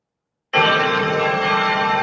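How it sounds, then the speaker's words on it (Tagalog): The Manila Cathedral bell rings loudly after a brief silence, its rich tone sustaining and humming steadily without pause. "Pinatunog ng Manila Cathedral ang mga kampana nito"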